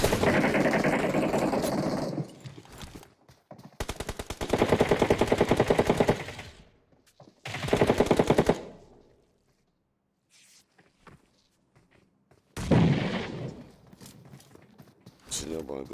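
Automatic gunfire bursts in a PUBG Mobile esports match in the Nigeria Pro League playoffs, loud rapid volleys in three or four clusters with short silent gaps between, under excited commentary.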